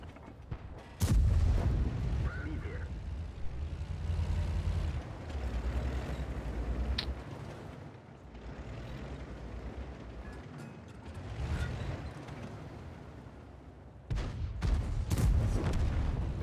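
A tank in World of Tanks fires high explosive shells, with deep booming shots near the start and end over a rumbling engine and battle ambience.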